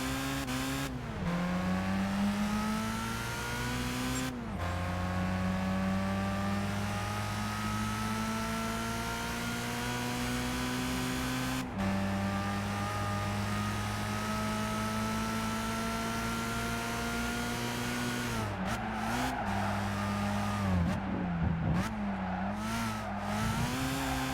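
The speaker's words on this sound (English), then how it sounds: "as bad as some of the engine sounds are in this game, this does sound exactly like a Barcan 91 Civic" A 1991 Honda Civic engine revs loudly and continuously in Gran Turismo 5 during a World Compact Car race, its steady drone rising and falling through repeated gear shifts with brief dips and tire noise near the end.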